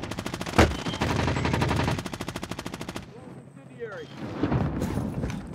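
Rapid automatic gunfire in Call of Duty Warzone rattles close and loud for a few seconds, with one sharp blast near the start, then gives way to quieter shots and a voice.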